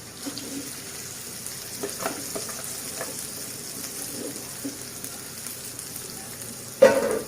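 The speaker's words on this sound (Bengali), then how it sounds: "সব চালটা এর মধ্যে দিয়ে দেবো। দিয়ে ফ্রাই করব।" Rice is frying in a pan alongside fried cashews and raisins, giving a faint, steady sizzle with a few soft stirring scrapes and a sharper clatter near the end, no voices.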